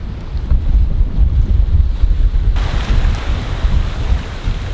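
A sailboat under sail off Brazil, steered by a wind vane toward Natal, rushes through wind and waves; loud gusty wind buffets the microphone over a continuous wash of water, with a brightening surge midway.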